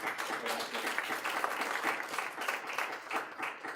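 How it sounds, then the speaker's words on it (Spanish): A seminar audience at an entrepreneurship dialogue claps steadily for the invited guests, a dense, even burst of many hands lasting several seconds with no speech. "Un aplauso, por favor, para los invitados."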